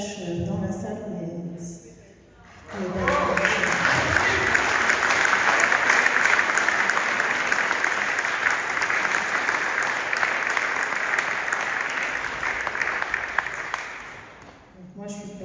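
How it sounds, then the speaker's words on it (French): An audience in a conference hall breaks into loud, sustained applause that fills most of the stretch, with someone speaking briefly just before it begins and again as it fades. "Je trouve que ça serait important à nouveau d'applaudir pour Cyril."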